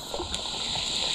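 Floodwater from four days of heavy rain overflowing across a temple courtyard, a continuous broad rushing and gushing wash of water, steady and fairly close with no voices over it.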